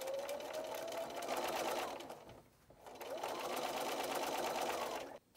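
A sewing machine stitches around a fabric bowl cozy in two long, even runs with a brief pause between them, heard close up.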